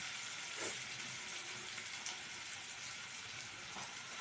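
Soaked chickpeas hitting hot oil in a frying pan for an aloo chana curry, a steady bright sizzle with a couple of soft stirring scrapes, close and alone.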